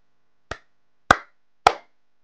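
Three sharp, isolated hand claps, evenly spaced about half a second apart, made to trigger a BC547 clap switch circuit on a breadboard, each crisp and close against silence.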